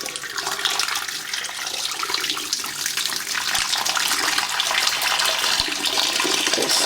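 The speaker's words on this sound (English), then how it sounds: "then chase it down with some boiling water" Boiling water pours steadily from a jug down a blocked kitchen sink, a loud continuous rushing splash that stays close and even throughout, with no voices.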